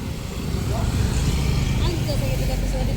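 A habal-habal motorcycle taxi engine drones steadily up close on a rural ride toward the farm, with wind rush and voices talking over it.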